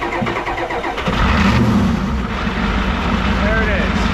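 An old abandoned junkyard Ford wrecker engine revs and runs loudly up close, surging after a second into a rough, racing idle, with a person talking briefly over it.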